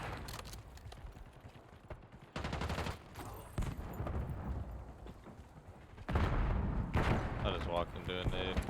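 A grenade blast amid bursts of gunfire in a shooter video game, loud booming explosions and rapid shots cutting in and out across several seconds, with a voice talking over parts of it.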